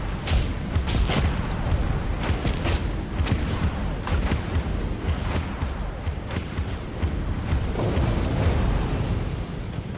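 Weapons fire and explosions from the naval space combat game Dreadnought come as a dense, continuous run of heavy booms and bursts, loud and close, with no speech over them.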